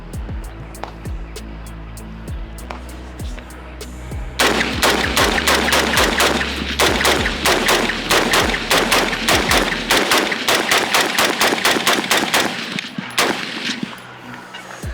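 An FN AR rifle fires a long string of rapid, evenly spaced loud shots, starting with a few sharper reports and then settling into steady fire for about ten seconds.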